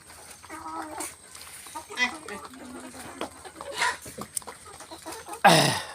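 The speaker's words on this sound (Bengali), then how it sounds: "আমি একটা মুরগির ভিডিও করলাম" Native village chickens and roosters cluck in short, scattered calls around a rural yard, with a louder squawk near the end and faint voices in the background.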